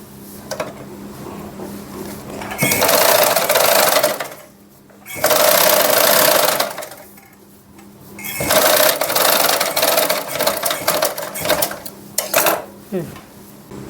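A domestic sewing machine stitches frilled puff sleeves onto a two-layer long frock, running in loud sustained bursts of several seconds separated by brief pauses, then continuing in shorter, choppier runs.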